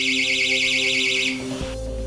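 A phone's anti-theft proximity-sensor alarm sounds loudly and steadily, a warbling electronic siren that runs for over a second before cutting off, leaving lower tones behind.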